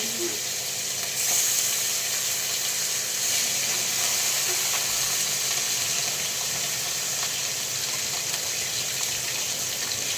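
Pona fish sizzles steadily in hot oil in a pan, a constant bright crackling hiss running close and loud throughout with no pauses.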